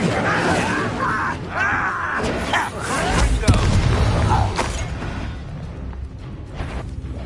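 An Incendio fire spell is cast in Hogwarts Legacy combat, giving a loud whooshing blast with a boom amid a continuous game soundscape, while a person shouts over it.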